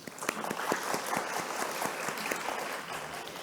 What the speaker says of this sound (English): please join me to give a round of applause for both of the speakers once